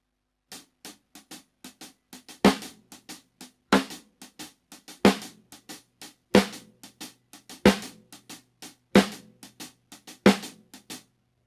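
Latin groove on a drum kit, lighter hand strokes in an even pattern with loud snare hits landing on beats 2 and 4, close and clear with no talking.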